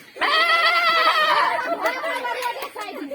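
A goat bleats loudly and close by in a long wavering cry, followed by rougher broken bleats, with voices in the background.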